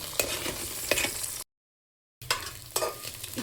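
Eggs seasoned with salt and chilli powder frying in a pan for egg fried noodles, with a close crackling sizzle and stirring scrapes, cut by a short stretch of silence midway.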